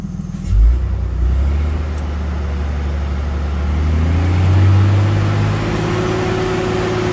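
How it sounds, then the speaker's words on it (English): A car engine idles loudly up close, then its pitch rises and falls in a slow rev before holding steady, with no voices over it. "Go ahead, rev up there, bud."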